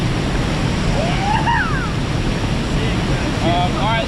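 Rapids on the Tellico River give a steady, close, broadband rush of churning water that holds even throughout, with a few faint high chirps on top.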